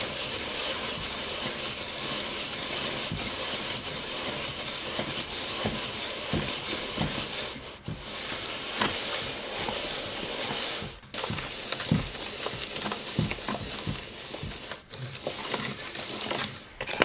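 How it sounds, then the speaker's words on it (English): Bath bomb ingredients being mixed by hand: a continuous loud gritty rubbing and stirring hiss of dry powder, close up and steady, with brief pauses and no talking. "you mix it until you think it's mixed well"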